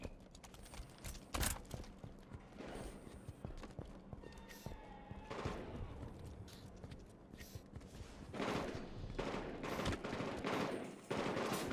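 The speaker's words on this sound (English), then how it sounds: "I'm getting shot from behind" Gunfire in the shooter game Halo 5: Guardians, rapid bursts of shots crackling through a busy mix of game noise, with a few sharper loud volleys near the end.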